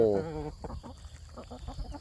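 Large farm chickens of a big breed raised for meat, clucking and calling close by in a rural yard, a rapid run of calls followed by scattered softer clucks.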